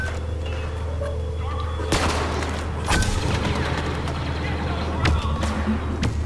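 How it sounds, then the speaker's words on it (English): Blaster cannon fire in the Star Wars Battlefront multiplayer video game, several sharp booming shots at irregular intervals over steady game noise, with players talking over it. "There we go. Blaster cannon."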